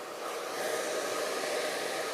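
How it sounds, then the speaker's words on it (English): A blow dryer runs continuously while hair is styled with a small thermal round brush, giving a steady, close, airy whoosh at constant loudness with no talking. "I'm bringing the blow dryer around this way"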